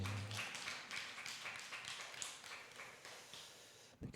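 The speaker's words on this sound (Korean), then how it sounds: "주님께 영광의 박수 올리겠습니다." A church congregation at a Wednesday prayer meeting claps together in a steady, rhythmic beat of about two claps per second. The clapping is fairly soft and roomy and slightly ragged, with faint voices beneath it.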